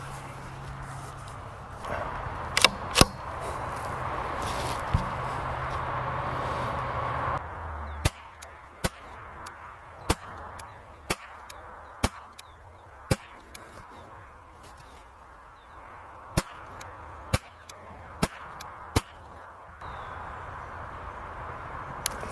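KIDD Ruger 10/22 rifle firing match ammunition at a long-range target: about a dozen sharp, fairly evenly spaced cracks. Muffled voices and background rumble fill the first stretch.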